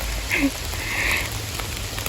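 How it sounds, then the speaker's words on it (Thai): Steady rain falling through a forest beside wet rice fields, a continuous soft hiss of drops close around, with a couple of brief higher sounds breaking through. "นี่ฝนตกเต็มป่าเลยแล้วนาก็เปียกหมดแล้วค่ะนี่"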